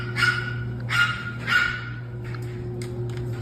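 A dog barks three times in quick succession, loud and fairly close, followed by a few softer yips, all over a steady low indoor hum.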